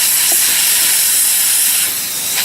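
A plastic welder melting car bumper plastic gives off a loud, continuous hiss that stays close and unbroken throughout, with no voices.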